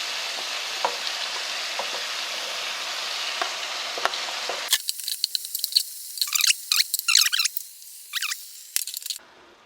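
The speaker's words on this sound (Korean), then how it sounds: "이제 야채를 넣고 볶을 겁니다. 브로콜리 넣고 다 넣고, 양파 넣고, 마늘 넣고, 파 넣고" Broccoli, onion, garlic and green onion stir-fried with pork belly in a pan, a soft sizzle giving way to sharp scraping and clattering stirring strokes that come in irregular bursts, close and fairly loud.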